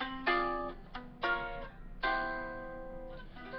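A clean guitar plays a short ii-V-I sequence of jazz chords, four strummed drop-two voicings each left to ring, soft and close.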